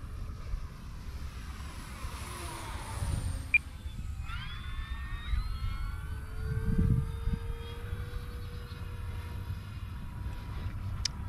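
An E-Flite P-51 1.5-meter RC model warbird flies overhead with a faint, distant motor whine that shifts in pitch as it passes, under steady wind noise.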